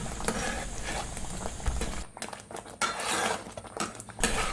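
A thick jackfruit, jaggery and dry ginger mixture is stirred in a pan, giving close scraping and clinking of a utensil against the pan in uneven bursts with brief pauses, no talk.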